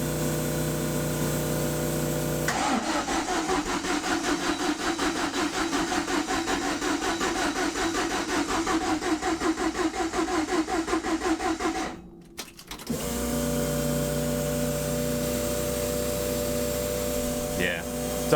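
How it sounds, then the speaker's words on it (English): Fuel pumps on a twin-turbo Ford Fiesta with a race ECU keep running without shutting off, a steady close whirring drone with a rhythmic pulsing, stopping briefly before a steady hum resumes. "Oh, fuel pumps that don't turn off."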